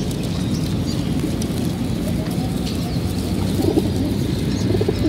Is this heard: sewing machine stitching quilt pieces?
no